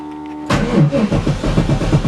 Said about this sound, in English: that's my starter. Oop, she's gonna go.